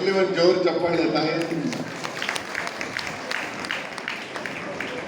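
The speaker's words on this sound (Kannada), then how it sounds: "ಬರ್ಲಿ ಒಂದು ಜೋರು ಚಪ್ಪಾಳೆ ತಾಯಿ." An audience at a 50th anniversary celebration of the Krishna Mitra Mandali in Mysore breaks into steady applause right after a speaker's voice, the clapping continuing as a dense, sustained patter.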